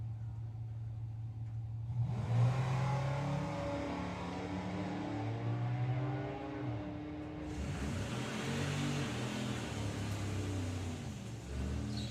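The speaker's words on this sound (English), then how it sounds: "Well, Dan gets there first with 1241. And Lewis makes a move there" A Camaro and a Mustang drag racing at Santa Pod Raceway, a sustained roaring engine blast heard from a distance, swelling and shifting in pitch as the cars accelerate down the strip, with a fresh surge partway through.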